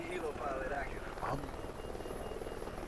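A Helo Pilot killstreak helicopter in Call of Duty Ghosts, a faint steady rotor drone running beneath game effects and a talking voice throughout.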